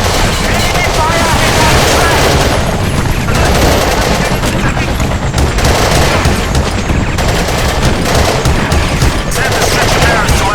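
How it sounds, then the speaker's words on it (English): Gunfire in the video game Battlefield 2: Modern Combat, constant loud volleys and machine-gun bursts filling a chaotic battle scene with booms underneath and voices shouting throughout. "Enemy fire"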